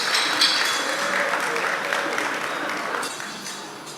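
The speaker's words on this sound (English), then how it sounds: "Let's give it a round of applause." Audience applause at a university gas challenge competition event, steady clapping from a crowd throughout, fairly loud and continuous without a clear break.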